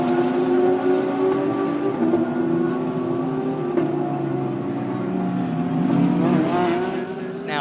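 GT race cars, Porsches among them, roar past at the Circuit of the Americas during a GT World Challenge America race, with loud, steady engine noise, shifting tones and Doppler sweeps as several cars pass near at speed.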